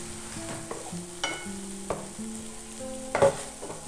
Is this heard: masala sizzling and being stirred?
yes